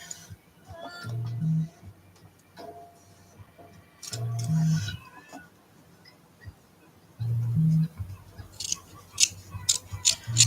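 Scissors snip while trimming a handmade medieval cat doll, a few quiet cuts alone at first, then someone talks over faint snipping and light handling of the doll.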